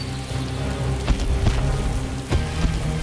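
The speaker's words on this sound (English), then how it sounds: "Yes, I brought the rain." Cartoon rain falls in a dense, steady patter of drops on surfaces, fairly loud and continuous, with a few sharper splashes standing out over roughly three seconds and no voices.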